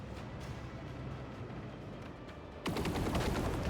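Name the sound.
starship interceptors firing guns in Warhammer 40K: Rogue Trader video game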